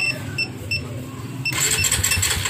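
A Rinspeed Raider 150 motorcycle with a two-way alarm immobilizer engaged: first a few evenly spaced alarm chirps over a low idle-like rumble, then the starter cranks loudly and harshly without the engine catching.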